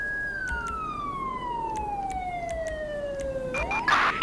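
A police siren in the Grand Theft Auto V video game, a long falling wail that glides steadily downward before snapping back up into a fresh rising cycle, loud and close over a low engine bed.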